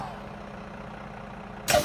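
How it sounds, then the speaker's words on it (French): A Paris RATP bus releases a short, loud pneumatic hiss as its doors open near the end, after a steady low engine idle. "Les portes s'ouvrent."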